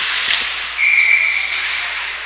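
A referee's whistle blows once, steady and moderately loud, to call offside at a girls' high school ice hockey game in a rink with a crowd, over a hissing arena background.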